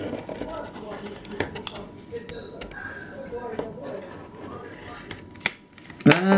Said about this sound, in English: I cut the corner off the packaging.